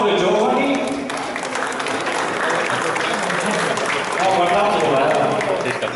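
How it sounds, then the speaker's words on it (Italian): An audience at a 60th anniversary photo exhibition gathering applauds, a thick, continuous wash of clapping heard close, with voices mixed in underneath. "Facciamo un applauso ai giovani."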